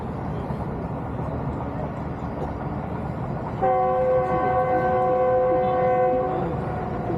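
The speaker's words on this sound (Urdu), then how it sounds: "اچھا، آئی تھاٹ کہ وہ ٹرین گزر جائے۔" A train rumbles past nearby with a steady, loud roll, and partway through its horn blows a long, sustained multi-tone blast over the rumble.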